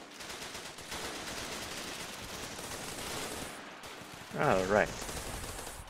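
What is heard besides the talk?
rapid gunfire from a fast-firing gun in the Running With Rifles video game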